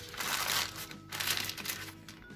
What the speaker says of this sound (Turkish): en sonunda dondurmamızın yağlı kağıdı alıyoruz üstünden